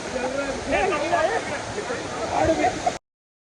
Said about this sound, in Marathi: त्यातला हा छोटासा धबधबा आहे